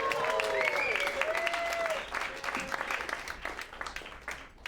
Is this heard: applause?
yes